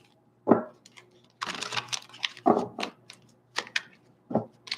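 Crisp riffling and snapping bursts from cards being shuffled, in several quick separate rounds with short pauses between them, close by.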